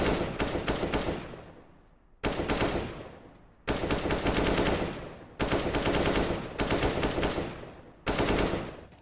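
Automatic gunfire from CSGO aim training, a computer game, sounds in loud sustained bursts, about six long sprays separated by short pauses.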